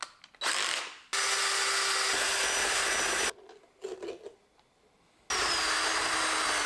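A power tool grinding out the inside of produce being made into a jack-o'-lantern, running in three long, loud, harsh bursts separated by quieter gaps with faint handling noise.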